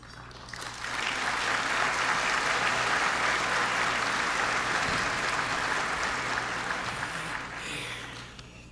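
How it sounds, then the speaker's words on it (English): Sustained applause from a large audience at a World Jewish Congress dinner in 1995, swelling quickly, holding steady and loud for several seconds, then tapering off at the end. "we will triple the applause today"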